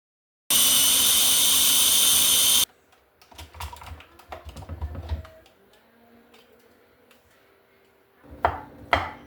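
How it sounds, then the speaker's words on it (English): A kitchen grinder whirs loudly and steadily for about two seconds while grinding rolled oats and beetroot, then stops, leaving softer clattering and handling noises. "I leave a small amount of oats in the grinder and I add the beetroot and grind."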